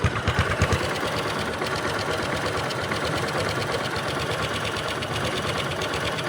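A Honda XRM 125 motorcycle engine with its exhaust covered runs steadily with a muffled, rapid mechanical chatter from an engine knock, fairly loud and constant, with a few stronger pulses at the start and no voices.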